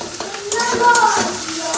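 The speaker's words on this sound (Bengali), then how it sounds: "সব কিছুকে একটু হালকা করে ভেজে নেব" Onion, green chilli, carrot and curry leaves frying lightly in a pan, a soft sizzle with a few stirring clatters, close up under faint background voices.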